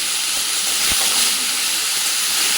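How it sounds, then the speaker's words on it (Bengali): Washed snake gourd goes into a pan of frying onions, setting off a loud, close burst of steamy hiss and sizzle that holds steady for a couple of seconds, with no voices. "এবার আমি এর মধ্যে দিয়ে দেব ধুয়ে রাখা চিচিঙ্গেটা।"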